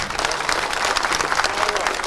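Audience applause at the opening ceremony of a coastal facility, dense steady clapping from a crowd filling the whole stretch, loud and close, with a voice faintly audible underneath.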